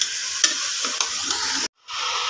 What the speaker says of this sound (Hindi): और अच्छे से कर लेंगे मिक्स।